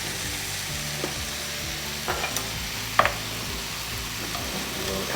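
Red curry paste sizzles in a pan for Thai red curry with duck, a steady close-up frying hiss with a few light scrapes and taps as it is stirred; a faint hum sits underneath.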